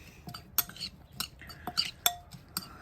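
Utensil mixing avocado in a bowl while making steak fajitas, heard as a series of sharp scrapes and clinks against the bowl at an irregular pace, fairly close, with no talking over it.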